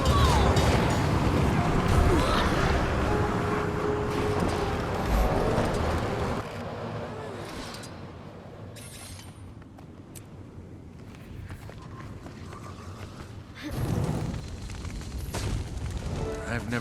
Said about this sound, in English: I've never seen an explosion collapse on itself like that